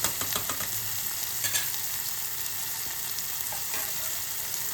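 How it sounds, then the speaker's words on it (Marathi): Toor dal poured into a hot green-chili tempering in a pan and stirred, a steady close sizzle and fry with brief scraping stir strokes throughout, no voices. "आता आपण त्याच्यात डाळ घालूया."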